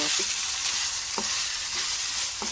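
Green chili tossed into a pan of sizzling ground chicken and chayote brings a continuous loud frying hiss, with a few soft stirring scrapes and clicks of the utensil against the pan.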